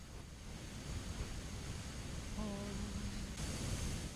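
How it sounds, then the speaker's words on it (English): Steady, broad rushing roar of a waterfall in Dark Souls, played in a modded VR version, holding at an even level throughout with a brief tonal game sound partway through. "I really wanted this waterfall noise to end"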